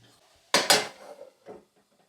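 A spoon knocks against a pot while mutton curry is stirred in a home kitchen, giving two sharp close clanks followed by softer scraping and one fainter knock.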